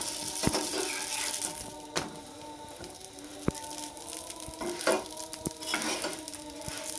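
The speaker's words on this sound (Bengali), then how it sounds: "আমি এভাবে সবগুলো রুটি ভেজে নেব" Paratha flatbread fries in oil in a pan with a soft steady sizzle, broken by a few sharp clicks and taps from the utensil.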